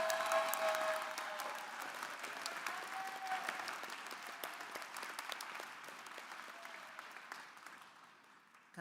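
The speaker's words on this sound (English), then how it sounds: "let's give all of our doctoral and education specialist candidates a round of applause" An audience at a university fall commencement ceremony applauds graduating doctoral and education specialist candidates. Broad, sustained clapping echoes through a large hall and slowly tapers off over several seconds.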